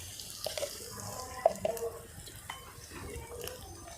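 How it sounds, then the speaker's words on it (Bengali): A little water goes into a pan of hot oil with red chilli powder and cumin powder, giving a faint splash and gurgle with a few small drips and bubbling pops over a low background. "অল্প একটু জল দিলাম যাতে লঙ্কা তেলের উপরে না ছুঁয়ে যায়"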